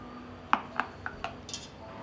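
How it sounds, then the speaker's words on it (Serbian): Glass jars are set down one after another in a pot lined with a cloth, making about five soft, muffled clinks at an even pace, with the last one fainter. "na dno ću staviti krpu i unutra ću poređati tegle"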